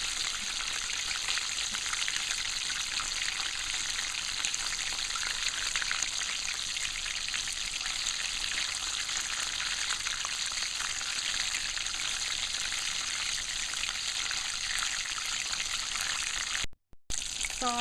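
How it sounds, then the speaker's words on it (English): Chicken frying in oil over a low to medium flame makes a steady, dense sizzle that crackles without a break for about seventeen seconds before a brief dropout near the end. "Always keep it on low to medium flame while frying."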